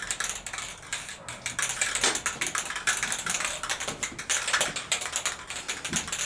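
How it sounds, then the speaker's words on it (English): A paint can rattling as it is shaken, a rapid, close clatter of irregular knocks and taps that continues without a break and with no voices. "the paint is being shaken up by my expert paint shaker"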